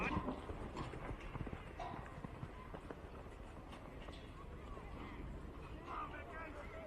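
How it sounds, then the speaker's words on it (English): A horse works in the arena at a campdraft competition, its hooves giving a continuous, fairly faint clip-clop and drumming under steady commentary over the loudspeaker. "So as Mick rides out on Nearbo President, the horse is owned by M&M Southern"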